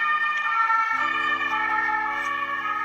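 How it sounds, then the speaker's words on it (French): An ambulance siren passes outside, a sustained wailing tone with a clear pitch shift partway through, loud and continuous over the whole stretch with no speech. "Il y a l'ambulance qui passe."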